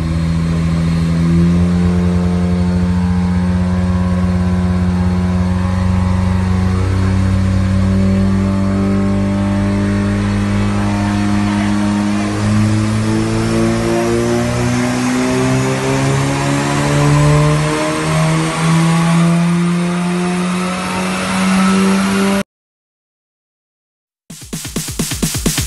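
A modified Honda Jazz engine on a dyno revs hard and continuously, its pitch rising steadily through the gears for over twenty seconds, loud and close, before cutting off abruptly into silence, then a brief burst returns.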